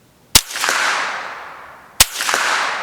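Two suppressed shots from a Performance Center TCR .22 rifle fitted with a Rebel Silencers SOS-22, each a sharp crack followed by a zinging, laser-like ring. They come about a second and a half apart.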